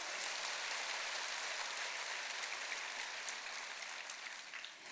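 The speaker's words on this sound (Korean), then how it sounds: "여러분 스스로에게 박수를 치시기 바랍니다" A seminar audience claps together in a steady, dense wash of applause that lasts the whole clip and fades slightly at the end, with no talking over it.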